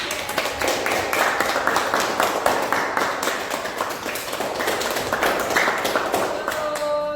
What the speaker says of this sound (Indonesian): Tepuk tangan untuk tim ini